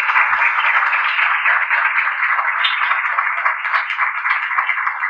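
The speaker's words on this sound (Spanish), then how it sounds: "Aplausos para él." An audience applauds a speaker at a law and arbitration event, with steady, dense clapping that holds at an even level for the whole stretch, no voices over it.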